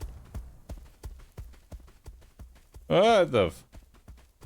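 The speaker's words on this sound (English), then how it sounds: "Those are big footsteps." Heavy, evenly spaced footsteps pound through a level of the video game Escape From Duckov, thudding about twice a second. A loud voiced outburst cuts across them midway.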